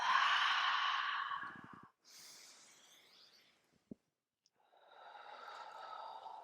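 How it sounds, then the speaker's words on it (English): A breathing exercise in a Kundalini yoga class: two long, soft breaths out through the mouth, each fading gradually, separated by a brief pause and a small click. "And then exhale through your mouth."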